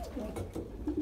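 A racing pigeon coos in a loft, a soft low rolling call heard close, with other pigeons and faint loft noise behind it.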